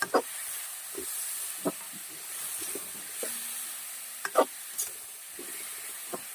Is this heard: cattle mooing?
no